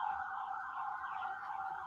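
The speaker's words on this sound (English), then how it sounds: "Siren's done." An emergency vehicle siren wails steadily at a distance, a faint continuous tone with slight pitch wavering and no talk over it.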